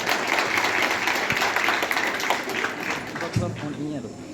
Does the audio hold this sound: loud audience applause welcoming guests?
yes